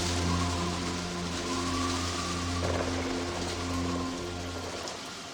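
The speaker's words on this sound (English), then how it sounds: "And the rains pour steadily for 40 days and 40 nights." Steady pouring rain makes a continuous dense hiss, with a low, sustained background hum underneath, fading slightly at the end.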